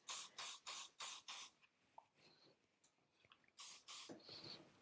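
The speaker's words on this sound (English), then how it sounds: "A little bit of stronghold hairspray to finish." Stronghold hairspray sprayed on finished short, fine hair, five quick close bursts in a row, a quiet pause with small handling noises, then two or three more short hissing sprays.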